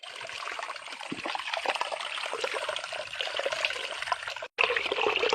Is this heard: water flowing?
yes